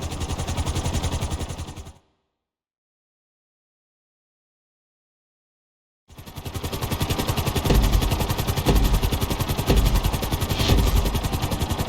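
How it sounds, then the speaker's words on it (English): A helicopter in GTA V during a flight-school lesson thrums with a loud, fast rotor chop and engine drone, cutting to silence for several seconds before the pulsing clatter returns. "At the end of the course, you'll be required to safely land your helicopter."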